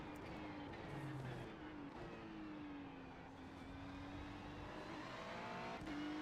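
Ferrari 296 GT3 race car at full throttle on track at VIR, its engine a steady, loud in-car drone with shifting pitch as it revs through corners, continuous over the whole stretch.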